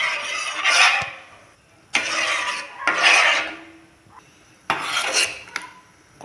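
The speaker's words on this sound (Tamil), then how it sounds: "நீங்கள் இந்த மாதிரி கிளறிட்டே இருங்க" A utensil scrapes around a pot of ragi millet tea in repeated rough, rasping strokes, each lasting about a second with brief gaps, close and fairly loud with no talking.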